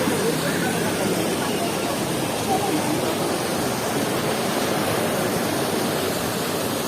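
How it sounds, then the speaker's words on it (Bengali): A small waterfall beside the Basistha temple in Assam rushes in a steady, dense wash of white noise that runs unbroken and fairly loud throughout. "একটা ছোট্ট ঝর্ণা আছে।"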